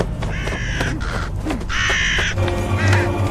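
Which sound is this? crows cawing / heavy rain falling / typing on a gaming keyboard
crows cawing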